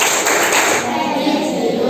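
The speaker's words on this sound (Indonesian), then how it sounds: "coba kita tepuk PPK dulu, ya, sama-sama. Tepuk PPK." A classroom of children performing the rhythmic PPK clapping chant, loud and close, with hand claps and taps blending into a dense, continuous patter.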